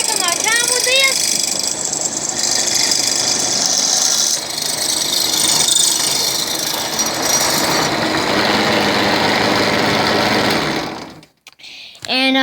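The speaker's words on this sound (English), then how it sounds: "that's basically a demonstration on how to drill through metal" Loud continuous grinding and whirring of a drill press biting into metal, sustained for several seconds before cutting off abruptly near the end.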